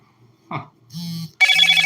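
A telephone rings during a recording session, with a short electronic ring pattern that starts partway through and keeps going loud and close, after a brief sound and pause.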